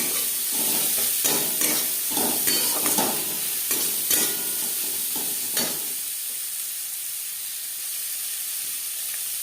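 Chopped onions hit hot oil in a wok that was just used to fry potatoes, giving a loud sizzle broken by scraping stirs, then settling into a softer, even hiss.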